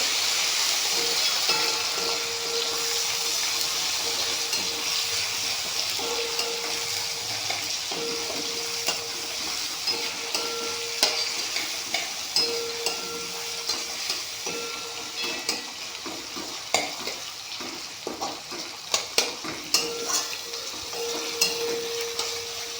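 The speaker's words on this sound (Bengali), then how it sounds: "পুরো টমেটো স্লাইস করে রেখে দিয়েছিলাম, টমেটোটা দিয়ে দিলাম।" Sliced tomato frying in a hot pan, a steady loud sizzle with frequent scraping stirs that grow more clustered later on, close and continuous.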